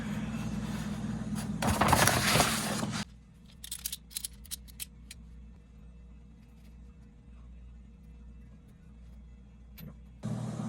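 A kitchen sink's hot water supply line is trimmed during a sink and faucet replacement. A loud burst of cutting and scraping lasts about a second, followed by quieter clicks and small handling taps, then another brief noise at the end.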